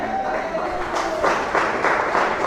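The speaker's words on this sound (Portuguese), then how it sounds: "Pode se assentar e glorificar o Senhor com palmas bem alegres para Jesus." A church congregation in a Portuguese-language service clapping joyfully for Jesus, the claps building and growing denser after a quieter start, at moderate volume.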